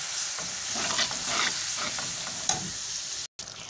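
A spoon stirs tamarind pulp into a potato and bitter gourd dish frying in a pan, giving a close, continuous sizzle with scraping strokes that drops out briefly near the end.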